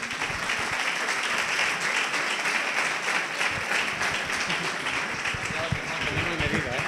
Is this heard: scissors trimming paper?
no